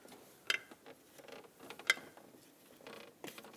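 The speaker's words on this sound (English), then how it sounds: "I'm going to get the rest of my grommets off of here." Rubber grommets pried off a 2000-2006 Honda CR-V valve cover with a tool, giving two sharp creaking pops amid quieter scraping, rubbing and small clicks, close up with no talk.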